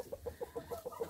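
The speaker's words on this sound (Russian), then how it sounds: "Петух." A rooster clucks in a quick, even series of about seven short, soft clucks, close by and otherwise quiet.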